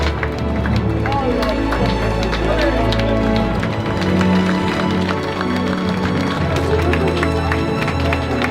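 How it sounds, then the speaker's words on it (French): An audience at a cruise event applauds the Rivages du Monde team as they come on stage, a dense continuous clapping that fills the room for several seconds, loud and close, with music or voices faintly underneath. "Vous pouvez les applaudir."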